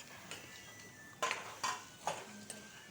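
Pork and potatoes being stirred in a pot, a few distinct scraping clinks of a spoon against the pot spaced about half a second apart over a quiet background, no talk.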